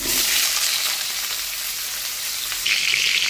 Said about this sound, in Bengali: আমার দেখো আলুটা মোটামুটি ভাবে একটু ভাজা ভাজা হয়ে এসেছে।